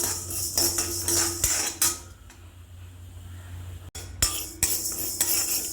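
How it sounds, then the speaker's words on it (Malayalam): Dry urad dal grains scraping and rattling as a metal spoon stirs them around a pan while roasting, with occasional clinks against the rim. "ആദ്യം ഉഴുന്ന് നന്നായിട്ട് വറുത്തെടുക്കണം"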